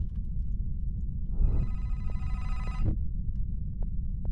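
An old-style electronic telephone bell rings once for about a second and a half in an indie horror game, The Vermander Curse, over a low rumbling ambient drone, followed by faint soft knocks.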